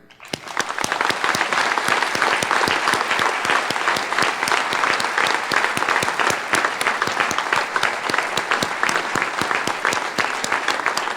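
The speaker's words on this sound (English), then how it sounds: "Please put your hands together to applaud the outstanding academic accomplishments of Zachary Meyer" An audience applauds at a Landmark College fall commencement ceremony, a dense, steady wash of many hands clapping that swells in quickly and holds loud and unbroken to the end, with no voices over it.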